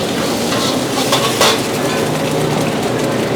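Curry fried rice with beef curry paste stir-fried in a wok, a steady loud sizzle and scraping hiss running continuously with no voices.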